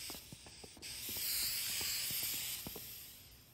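Insecticide spray hisses in a sustained burst from an aerosol can, steady and fairly close, with faint clicks and knocks underneath.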